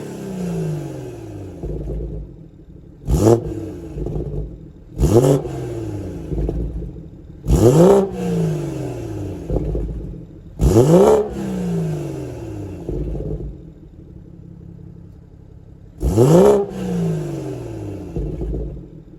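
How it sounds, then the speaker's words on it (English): BMW B58 engine fitted with a VRSF catless downpipe, revved in several short bursts while parked, each blip rising sharply then falling back to a steady idle rumble, heard loud and close from the rear. "I'm about to do some little revs, see how it sounds."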